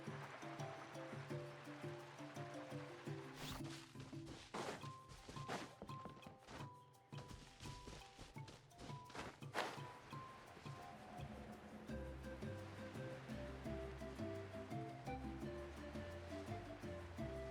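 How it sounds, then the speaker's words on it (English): Ocean surf washes and breaks continuously, rising in bursts of crashing spray around the middle and then settling back into a steady rolling roar, with a low tonal music bed underneath. "Carving waves!"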